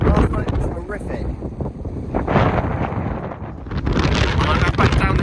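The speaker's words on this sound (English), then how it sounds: "It's very, very windy" Strong storm wind batters a microphone on an exposed hill beside a Terra Nova Northern Lite 2 tent at a campsite, roaring in loud, buffeting gusts throughout.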